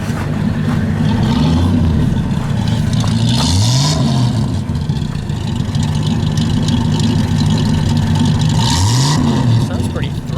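A 1931 Studebaker President Four Seasons Roadster engine idles loud and close with a steady, low, throaty rumble that swells briefly a couple of times.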